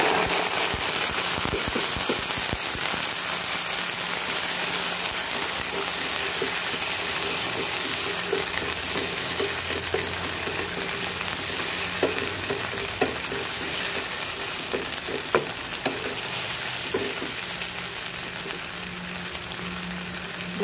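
Sardines frying in a pan, a continuous loud sizzle with scattered crackles and pops and occasional clinks of stirring, going on for about twenty seconds with no talking.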